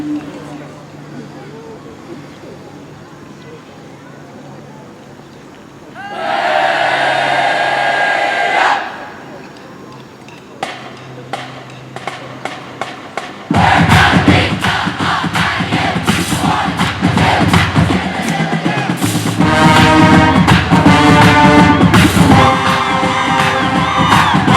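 Grove City marching band and crowd perform the Hate Cheer at a football-season event: a short burst of massed shouting, a few sharp hits, then loud sustained brass and drums with crowd voices for the rest.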